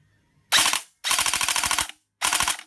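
An MP40 SRC airsoft electric gun on a 7.4-volt battery fires full auto in three loud, close bursts, a short one, a longer rapid rattling string, then another short burst, with brief silence between them.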